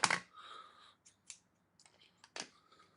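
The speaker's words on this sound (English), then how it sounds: "Got my scissors out." Scissors trim the edges of a paper craft card in a few short, quiet snips and clicks with gaps between them, close by and without talk.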